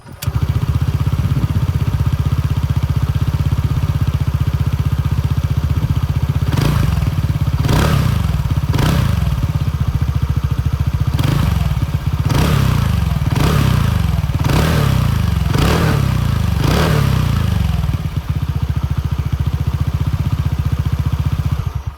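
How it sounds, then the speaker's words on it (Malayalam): A TVS NTORQ 150 scooter runs with a deep, bassy exhaust note at a steady idle, broken by a series of sharp throttle blips and revs in the middle before it settles back to a low idle, close and loud. "പിന്നെ ഇതിൻ്റെ സൗണ്ട് കേട്ടോ, എക്സോസ്റ്റ് സൗണ്ട് എന്ന് പറയുന്നത് ഭീകരമാണ്. നല്ല ബാസുള്ള ഒരു സൗണ്ടാണ്."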